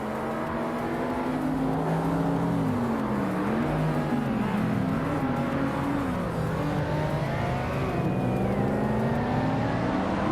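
Several race car engines, among them a 1990 Toyota Supra, hum and rev continuously during a race, with pitch bending through gear changes and a passing whine late on, steady and unbroken.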